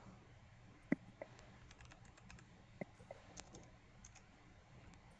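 Typing on a computer keyboard at a Windows PC, faint, sparse clicks of keys, with one sharper tap, over a low background hiss.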